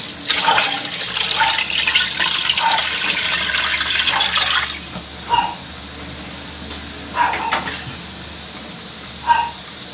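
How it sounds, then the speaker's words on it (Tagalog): Water pours steadily into a cooking pot of sautéed mung beans for about five seconds, then stops, leaving a quiet room with a few brief clinks and knocks. "lagyan na natin ng tubig"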